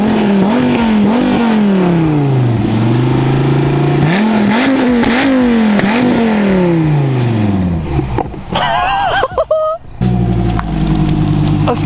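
A Dodge Viper GTS supercar rated at 650 hp revs hard through several rising gear pulls, its deep engine note climbing and dropping between shifts. The sound is loud and close, with a sharp burst and a shift into a lower rumble near the end.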